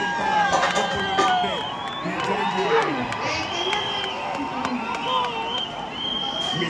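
A large crowd at the IIFA awards ceremony cheers and whoops in overlapping shouts and calls, a loud, sustained wall of voices with scattered claps throughout.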